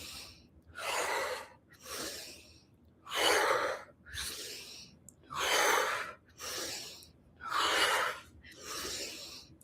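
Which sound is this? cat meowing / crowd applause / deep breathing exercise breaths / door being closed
deep breathing exercise breaths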